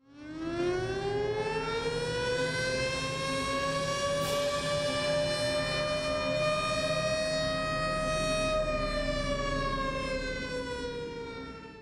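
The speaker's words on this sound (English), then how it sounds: "the sound of the air raid siren" A World War II air raid siren winds up into a steady, sustained wail that holds loud and unbroken for about twelve seconds before easing off at the end.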